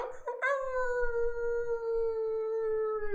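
A person imitates a wolf howl with one long, loud, sustained tone that slowly slides downward and holds to the end, close and clear.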